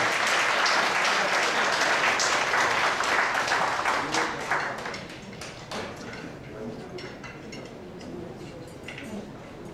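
A hall full of guests claps during guest introductions at a 2015 Seoul alumni gala evening; dense applause rings out for about five seconds, then thins into scattered claps as a voice speaks over it.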